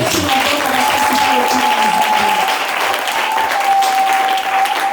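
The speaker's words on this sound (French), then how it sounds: "On l'acclame très fort pour la gloire" Loud, sustained applause from a large audience at a religious gathering, a dense wash of clapping filling the whole stretch with a sustained sung or held tone running underneath.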